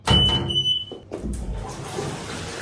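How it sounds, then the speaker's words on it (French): A public toilet flushes with a sudden loud whoosh and rush of water. A brief high beep sounds at the start, then running water trails off into a quieter refill. "Ah, ça tirait juste la chasse d'eau."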